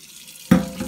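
Hot water from a kitchen tap suddenly starts running into a sink, a close, steady splashing gush after a brief quiet moment.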